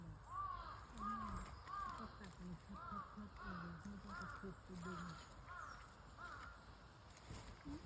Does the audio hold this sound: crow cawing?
yes